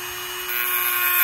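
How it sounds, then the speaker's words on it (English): A Dremel rotary tool whines at high speed as it cuts into a metal axle shaft, a close, shrill, continuous grind that grows slightly louder. "Got my trusty Dremel."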